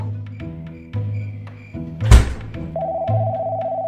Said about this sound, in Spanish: Mi teléfono suena.